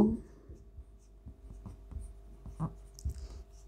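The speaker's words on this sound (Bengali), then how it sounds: "এইবার একটু লিখি" Pen writing on paper during a statistics lesson, a run of close, soft scratchy strokes and taps in an irregular rhythm against a quiet background.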